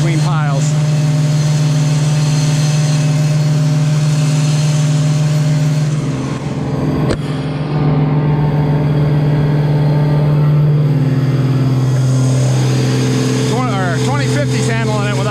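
A new Walinga grain vac runs at steady throttle, a loud continuous engine hum with a strong low drone that holds close and even throughout, shifting pitch slightly near the end.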